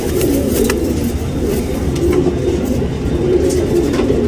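Tournament racing pigeons in a loft in Bangalore, India, with a steady low cooing murmur from several birds running continuously and fairly loud, set against a busy background hum.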